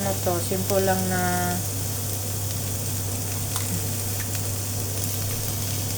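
Eggs fry in a pan for vegetable fried rice, giving a steady close sizzle under a constant low hum, with a few short utensil clinks early on and a voice speaking briefly at the start.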